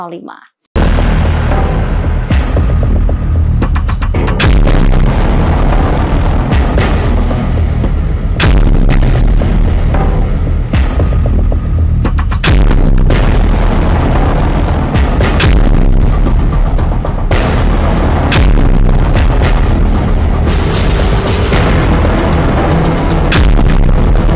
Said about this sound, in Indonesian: Pangkalan yang menjadi markas besar divisi Gaza Israel itu dihantam dengan salvo rudal